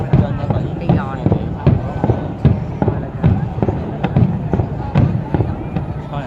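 Fireworks bursting at a New Year 2024 celebration in Can Tho, Vietnam, with repeated sharp bangs and crackles in an irregular rapid rhythm over crowd noise, and people talking and exclaiming in between.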